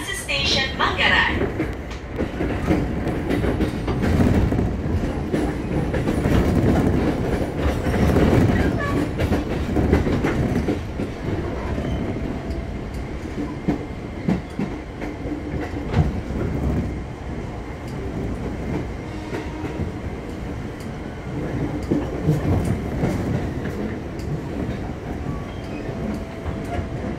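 A commuter train rumbles along the rails at Manggarai Transit Station, with steady clatter and occasional squeals, loud and continuous, with station announcements faintly heard over it.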